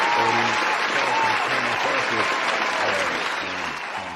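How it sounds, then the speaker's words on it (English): A crowd claps and cheers enthusiastically, the applause fading slightly toward the end, with voices mixed into the noise. "give yourselves a round of applause"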